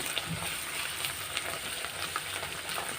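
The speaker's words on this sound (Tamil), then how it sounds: "ஸ்டவ் இப்போது சிம்மில் வச்சு நல்லா ஃப்ரை பண்ணிக்கோங்க" Ginger sautés in a pan over a low stove flame, a steady close sizzle broken by soft stirring scrapes, with no talking.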